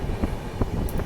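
Hirakhand Express train pulling out of Damanjodi railway station on a monsoon journey, a steady rumble with soft rhythmic clacks of the wheels rolling along the track.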